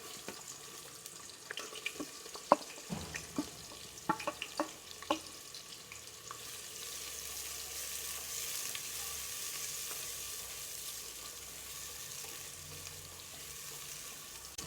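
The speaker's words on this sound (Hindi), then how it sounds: "अभी हमारा ऑयल गर्म हो चुका है तो अभी इसमें हम लोग प्याज डालते हैं" Onions go into hot oil for haleem and are stirred with a run of clinks and scrapes. A soft, steady sizzle then builds and carries on quietly and evenly to the end.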